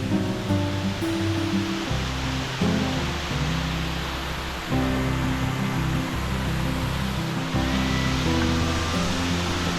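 Waterfall along a mountainous bike route from Sagada to Abra, a loud steady rushing roar of falling water, close and continuous, with a few faint tonal sounds mixed in and no talking.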